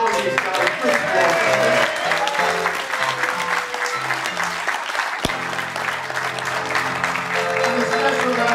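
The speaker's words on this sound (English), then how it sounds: "Can we have one more round of applause for all these guys?" Audience applause at a golf club presentation evening, steady, dense clapping throughout, with voices and a faint tonal hum mixed in underneath.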